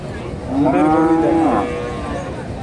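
A single loud, drawn-out cow moo close by at a cattle market in Naogaon, rising and then falling away, with faint background noise and no talking.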